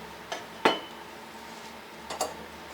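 Metal body of an Optimus Polaris camping stove set down on a hard surface, a few sharp metallic clinks and knocks, one prominent clank followed by a softer pair, close and alone.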